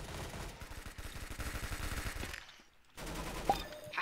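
Rapid gunfire from a player's weapon in an arena shooter video game, a dense rattling burst of shots over the first two and a half seconds, then a brief lull before more firing resumes.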